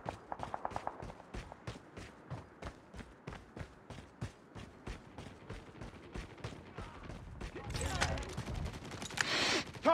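Rapid bursts of gunfire from a Call of Duty Mobile match, rhythmic repeated shots over several seconds followed by a louder blast, with game sounds underneath.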